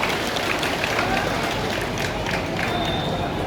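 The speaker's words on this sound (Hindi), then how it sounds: "आप सबके लिए और हमारे युवा अफसरों के लिए जोरदार तालियां इस मंच के माध्यम से बजनी चाहिए" Applause and crowd noise from an audience at a stage event for World Adivasi Day in Dantewada, a steady dense wash of clapping held throughout with no pauses.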